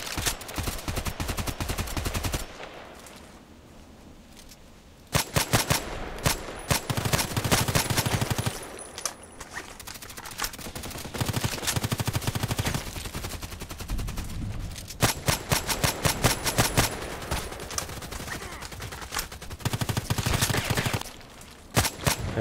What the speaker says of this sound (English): But the shooting is awesome.